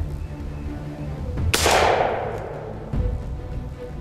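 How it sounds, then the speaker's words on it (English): A single loud 12-gauge shotgun slug blast fired at a starter target outdoors, a sharp crack followed by a rolling decay, with a faint thud afterward and no talking. "we're gonna see how this thing will react to a 12-gauge slug"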